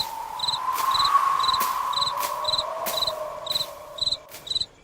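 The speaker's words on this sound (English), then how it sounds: "Crickets." Crickets chirp steadily in short, evenly spaced bursts over a soft continuous hum, a repeating sound effect that stays close and clear with no voices.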